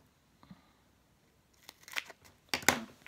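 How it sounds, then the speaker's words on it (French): Scissors snip through a 3D paper-craft Santa figure, cutting it in two for the legs: a couple of crisp, close cuts in the last second after near silence, with no talking. "Je vais couper en deux pour ses jambes."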